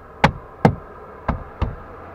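A plastic door handle trim piece on a Toyota Corolla driver's door panel is pressed into place with four short, sharp knocks and snaps, two close together, then a pause and two more, close up and clear.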